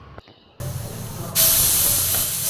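A pressure cooker on a home kitchen stove cooking tinda vegetables starts releasing steam with a rushing hiss that swells into a loud, steady whistle, close and continuous, no talking.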